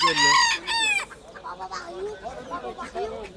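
A rooster crows loudly twice up close, followed by chickens clucking and murmuring, with people talking faintly in the background at a poultry market in Kırıkkale.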